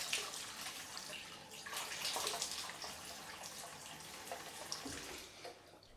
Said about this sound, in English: I'm just going to wet my face down,